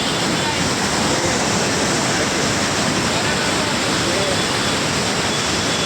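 Son river water roaring through partly opened gates of the Indrapuri barrage in Rohtas, Bihar, a loud, steady broadband rush that fills the whole clip without break.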